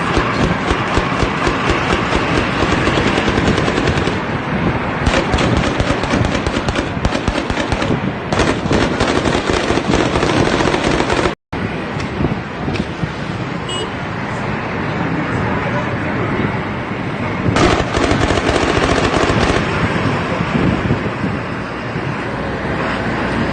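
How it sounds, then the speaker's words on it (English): Gunfire outside Assad's presidential palace in Syria during its capture by rebels: dense, loud bursts of cracking shots that run almost continuously, mixed with wind buffeting the microphone and voices, with one brief cut partway through. "the shooting outside the presidential palace"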